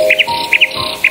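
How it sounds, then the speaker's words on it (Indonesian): Short paired bird chirps repeat three times at a steady rhythm, bright and fairly close, over a low background hum with no voices. "Ya, suara burung ini harus dikecilin dikit"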